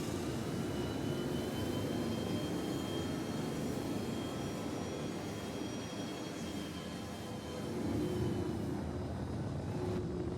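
Jet afterburner in a video game: a loud, sustained roaring rush with a faint whining tone above it, holding steady and swelling slightly near the end, with no talk.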